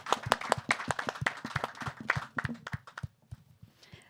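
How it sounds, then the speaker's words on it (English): An audience at a design talk gives a short burst of applause, with dense close clapping that thins out and fades toward the end. "Please give them a round of applause."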